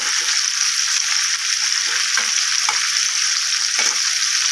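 Taro frying in oil until it reddens, a loud, even, close sizzle holding steady throughout with a few soft spatula stirs underneath.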